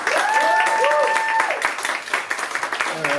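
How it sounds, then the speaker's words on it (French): Applause from the audience at a slam poetry tournament, with the clapping thinning into scattered, distinct hand claps, while a whistle-like tone and voices sound over it. "Et les premières fois, ça s'applaudit 2 fois plus."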